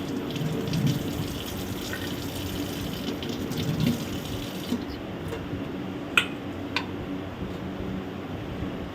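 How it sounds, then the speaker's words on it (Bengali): Ginger and garlic being rinsed by hand under running water, a steady splashing gush with light drips and a few sharp taps near the end, with no talking. "তারপরে এবার যে আদা রসুন এটাকেও ভালো করে ধুয়ে নেব।"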